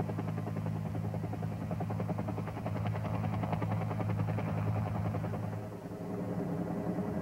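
A helicopter hovers during a military troop extraction with a patrol team. Its loud steady rotor thump and low engine drone run continuously without pause, with no voices.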